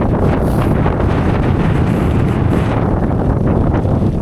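Strong wind on a mountain trail during a high wind advisory, a loud steady roar buffeting the microphone without letup, with no voices.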